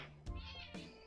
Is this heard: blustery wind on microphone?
no